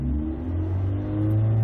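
A Ford engine idles and then revs up to a steady hold at about 3,500 RPM while the vehicle sits in park, giving a loud, close, even drone that rises slightly in pitch toward the end.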